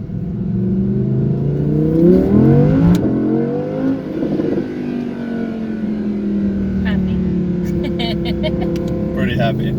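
An Audi R8 V10 plus engine revs and accelerates, its pitch sweeping up and down in loud sustained surges, with voices talking over it throughout.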